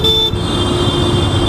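Microbus nosing into a narrow city street, its horn tooting loudly and steadily against close traffic and engine rumble.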